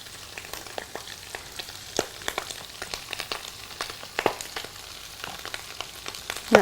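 Potatoes frying in a little butter, a close, continuous crackling sizzle scattered with sharp pops and spits, irregular but steady throughout.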